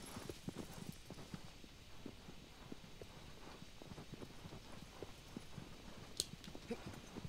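Agro the horse's hooves clip-clop at a walk in Shadow of the Colossus, a quiet, steady rhythm of soft thuds on the ground with faint wind behind and a brief bright sound near the end.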